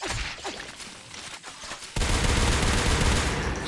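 Shotgun fire in Natural Selection 2, scattered shots at first, then a sudden loud, dense burst of gunfire that holds to the end.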